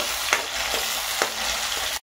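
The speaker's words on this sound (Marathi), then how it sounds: "टोमॅटो चांगलं परतून घ्यायचे।" Tomato sautéing in a pan with fried onion, a steady close sizzle with a few soft stirring scrapes, ending abruptly.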